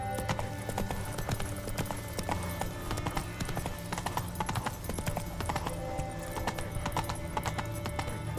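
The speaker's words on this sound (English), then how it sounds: "Whoa there, Roach. Come on, Roach." Horse hooves clip-clop steadily on the ground in the Witcher 3 video game, a brisk continuous rhythm of hoof strikes over game music and ambience.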